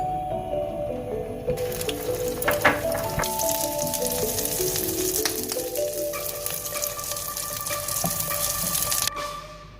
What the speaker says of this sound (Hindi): इसमें अब हम शामी कबाब को अंडा लगा के फ्राई करेंगे।